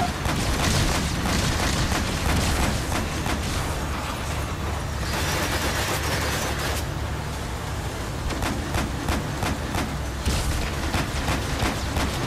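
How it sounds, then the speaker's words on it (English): Explosions in Metal Gear Solid V: The Phantom Pain, a sustained loud roar of booming blasts and rumbling debris with sharp crackling bursts, close and dense throughout. "This is gonna blow up anytime now."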